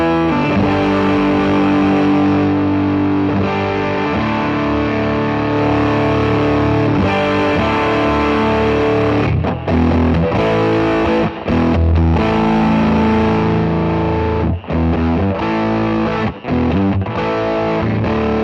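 Electric guitar played through a Cornerstone NERO fuzz pedal pushed into heavy overdrive, loud and continuous sustained distorted chords with a few brief choppy gaps and stops near the end, no talking.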